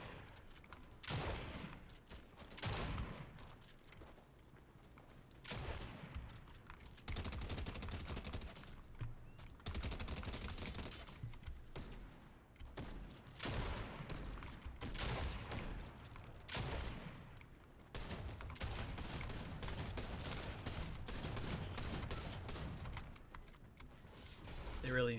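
Shotgun blasts crack repeatedly in a Fortnite match, coming in dense bursts throughout alongside in-game mechanical noises, with a player talking over the action.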